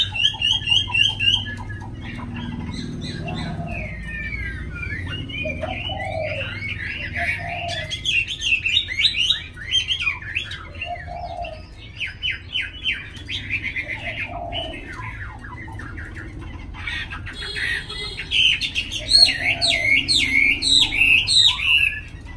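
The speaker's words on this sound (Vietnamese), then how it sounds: "đây là mấy con cu gáy mà quay clip còn cái gáy linh tinh" Captive spotted doves kept as cage birds coo in low, repeated soft calls, mixed with brighter chirps and tweets from other small songbirds close by.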